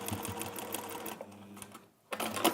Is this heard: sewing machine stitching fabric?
yes